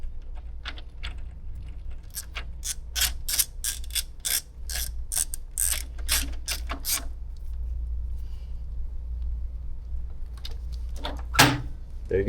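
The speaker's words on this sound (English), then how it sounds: "You're just going to tighten that bolt." A bolt being tightened on upgraded Harley-Davidson Pan America Special foot controls gives a run of quick, close ratcheting clicks for several seconds, then a pause and a few more clicks near the end.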